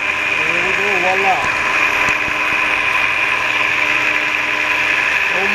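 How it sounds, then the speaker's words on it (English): A single-phase 115-volt blower motor with a start/run capacitor runs steadily and fairly loud, giving a continuous hum and whine with a slightly noisy mechanical edge throughout. "The motor's a little noisy. However, it does run."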